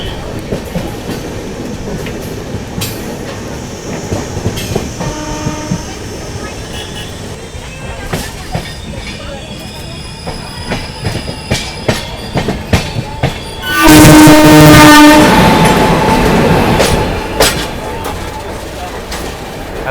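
The 12707 AP Sampark Kranti Express runs with a rhythmic clickety-clack of wheels over rail joints, and a loud horn blast sounds about two-thirds of the way through. People talk over the train noise.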